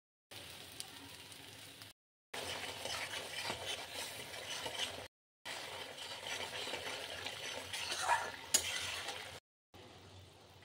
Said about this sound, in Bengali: পেঁয়াজ আর রসুনটা ভালো করে ভাজা ভাজা করে নিচ্ছি